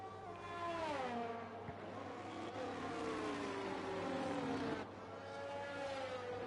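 Formula 1 race cars in the F1 23 video game run around the Canada circuit, their engines wailing in sweeping rises and falls as they accelerate and shift, loud and continuous.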